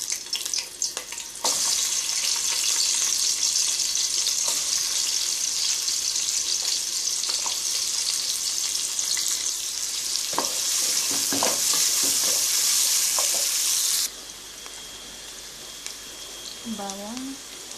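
Sliced onions dropped into hot cooking oil, a loud steady sizzle with occasional spoon knocks, running strong for a long stretch and then dropping to a quieter fry.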